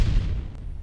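A single deep, rumbling boom with a heavy low-end blast that slowly fades out, loud and close, with no voices.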